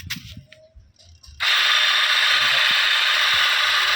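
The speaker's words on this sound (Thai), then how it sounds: "เสียงดังมากเลย ดังคักดังแน่นะครับ ดังมากนะครับ เนี่ยลูกปืนมัน แตกแล้วนะครับ" A washing machine motor with a broken bearing suddenly starts and runs steadily after some quieter knocking beforehand, a loud, rough grinding whir with a harsh rattling quality.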